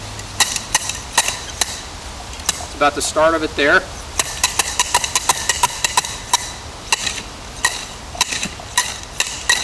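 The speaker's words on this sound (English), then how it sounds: "we're going to take this probe and try to hammer down into the soil" Sharp metallic hammer strikes ring out in a steady series of repeated blows as a metal probe is driven into soil at a septic site, close and crisp, with someone speaking briefly partway through.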